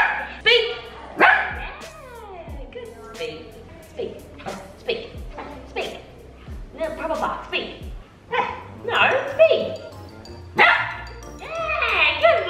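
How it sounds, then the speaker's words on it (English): A pet dog barks repeatedly on cue during a trick-training session, sharp close barks and yips arriving in short bursts between a person's frequent spoken commands and praise. "Let's teach Pluto to bark on command."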